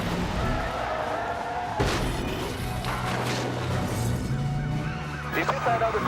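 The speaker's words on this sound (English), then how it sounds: "He's hit that other car." A police chase in rush-hour traffic as a fleeing car hits another car: a sharp impact bang rises out of steady road and engine noise, followed by continuing traffic roar with a further clatter near the end.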